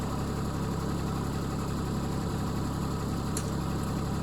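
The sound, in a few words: tractor engine idling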